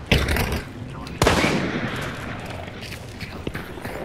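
Gunfire in Hunt: Showdown: a sharp shot at the start, then a heavy close blast about a second later with a long rumbling tail, and a lighter crack near the end.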